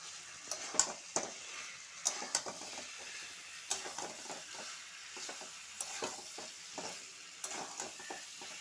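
Chicken sautés with chopped tomatoes in a pan, a low sizzle under repeated scraping and stirring strokes with light clinks of a utensil against the pan, close and fairly quiet.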